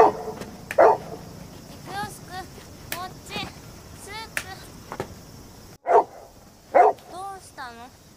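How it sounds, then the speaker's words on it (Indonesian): A dog barks in repeated short bursts and yips, sometimes loud and near and sometimes fainter, while people talk throughout. "masih saja menggonggong karena dia mengenali pria tersebut"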